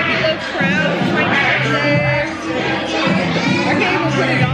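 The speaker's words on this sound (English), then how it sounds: "Y'all, they got a little crowd" Crowd chatter fills a busy restaurant during a birthday dinner, a steady babble of many voices close and far with no single speaker standing out.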